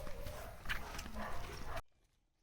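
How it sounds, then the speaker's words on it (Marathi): Water buffaloes and male buffaloes walk along a village path in the Malvan area in the morning, their hooves clopping irregularly at close range for under two seconds before the sound cuts off abruptly. "रेडे आणि म्हशी."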